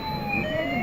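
An ambulance siren wails in a brief, steady burst, its tone sliding slowly in pitch, with no voices.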